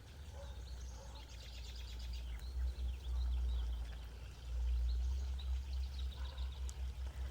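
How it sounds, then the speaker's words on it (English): An alfresco garden fountain splashes steadily, its water surging and pulsing in a low rush, while birds chirp faintly in the background. "Having the sound of water and having loud water in the garden really makes this area feel so much more serene and peaceful."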